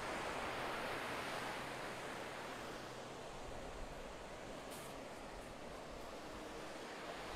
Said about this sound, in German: Auch mit Meeresrauschen.